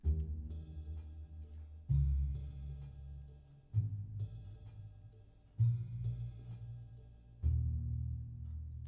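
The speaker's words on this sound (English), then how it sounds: "Now I'm adding a double bass." A double bass plays slow, deep notes roughly every two seconds beneath a quiet, chill guitar, in a soft and relaxed groove.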